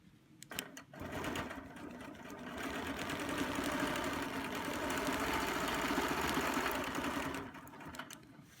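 A sewing machine stitches a Baptist Fan quilt border using a Pro Circle template, running in one steady, continuous mechanical whir for several seconds before stopping.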